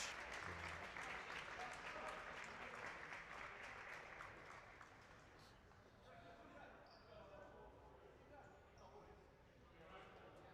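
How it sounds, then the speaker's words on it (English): Crowd applause for a futsal player going off the pitch during a National Futsal Series playoff semifinal, loud and dense at first, then easing to a steadier murmur of clapping with talk mixed in. "he's applauded off the pitch"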